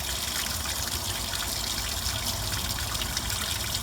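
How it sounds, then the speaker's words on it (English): Steady, rushing flow of water gushing continuously through the cooling system and engine block water jacket of a Ford Model T, loud and unbroken with a broadband hiss throughout. "we're flushing water through the cooling system, through the water jacket, to flush the engine block out thoroughly."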